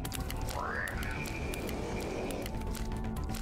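Frogs croak in the video game ATRIO amid a busy, dense game soundscape, with a rising sweeping tone early on and scattered clicks, heard fairly faint under constant background noise.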